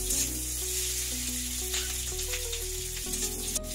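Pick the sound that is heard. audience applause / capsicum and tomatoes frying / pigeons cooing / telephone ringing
capsicum and tomatoes frying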